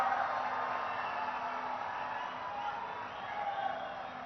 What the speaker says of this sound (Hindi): please have a huge round of applause my dear friends